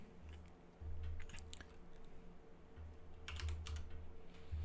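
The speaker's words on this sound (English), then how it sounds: "we type the name of the file that we want" Keys tapped on a computer keyboard to enter a script filename in a Linux terminal, a quiet run of light clicks in two short bursts with a low background hum.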